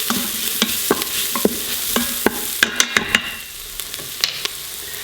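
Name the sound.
scraping and stirring spices in Instant Pot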